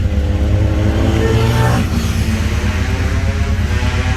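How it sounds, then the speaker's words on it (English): A 1982 Honda CB900C motorcycle engine runs loud and close under riding, a steady droning hum that briefly shifts pitch partway through, as with a gear change, then carries on evenly. "Let me give you a quick riding demo because it runs as good as it looks."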